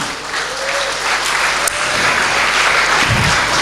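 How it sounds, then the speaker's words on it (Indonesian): A seminar audience applauds, a dense, loud, sustained clapping that fills the room from start to finish. "Aplaus buat Kiai Musta'in."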